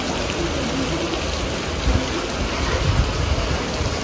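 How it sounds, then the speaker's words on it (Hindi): Heavy rain pours down in a steady broadband wash, loud and continuous throughout with no talk. "बारिश हो रही है एकदम धमाकेदार तरीके से, आप देख सकते हैं।"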